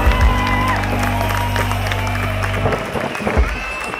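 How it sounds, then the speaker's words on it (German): Crowd at a beer festival in a sports hall applauding and cheering, dense clapping with whoops laid over a low sustained musical hum, fairly loud and close. "Einen großen Applaus!"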